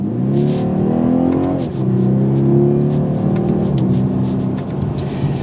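A 2022 BMW 230i coupe in Sport Plus mode revs sharply on a downshift while driving, its strong, steady engine drone dipping and then surging in pitch as the gear changes.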